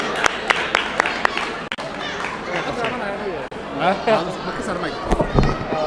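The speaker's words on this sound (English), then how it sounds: "A round of applause for Hamza." An audience at a community Iftar gathering in Minnesota claps and chatters as a commissioner is called to the stage, the sharp scattered claps close and steady while voices murmur throughout.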